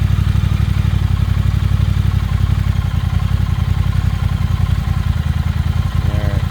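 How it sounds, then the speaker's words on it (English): Triumph Thruxton motorcycle engine runs at idle, a loud, close, rapid steady thumping with mechanical clatter throughout. "So let's go and fire it up real quick, and you can see the throttle feedback"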